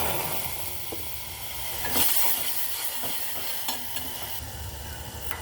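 Garlic tadka sizzling in oil in a pan as a tomato and chili mixture is added for a momo chutney, with a steady frying hiss, a louder burst of sizzle near the middle and light stirring scrapes, no voices.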